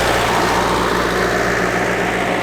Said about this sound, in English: You'll have to excuse that, it's a tractor.